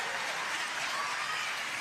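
A crowd applauds during a singles pickleball match at the Florida Open, a steady, even wash of clapping that stays fairly faint and distant the whole time.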